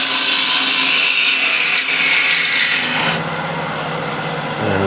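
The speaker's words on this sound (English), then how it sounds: "Once you're in the wood, you can open up the gouge and proceed forward." A wood carving gouge pushes steadily through wood, giving a continuous close scraping, rasping cut with a slight change in tone partway as the stroke carries forward.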